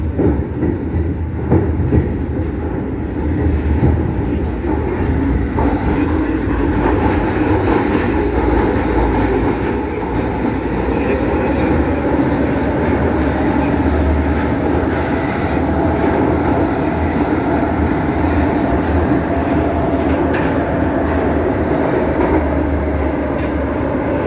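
Historic metro train set running through the tunnels of Prague's line A, a steady loud rumble with rail clatter and wheel noise throughout, no talking.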